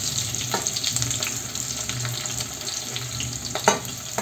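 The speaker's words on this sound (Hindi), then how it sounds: "देखा जैसे कि जैसे ही वो गर्म तेल में गए प्याज, देखो उनके छल्ले छल्ले सारे खुल गए।" Onions frying in hot oil on a gas stove, a steady close hiss and crackle with a few louder clicks of utensils, no talking.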